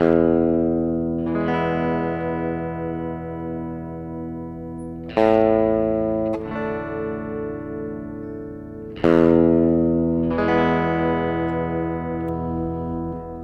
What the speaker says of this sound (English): here we can get that kind of baritone kind of sound. It might be a little bit on the distorted side